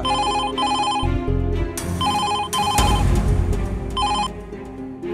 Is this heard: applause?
no